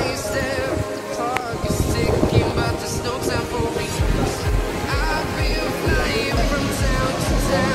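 Gusty wind on the Chocolate Hills in the Philippines buffets the microphone in low rumbling bursts, with faint background activity and occasional voices.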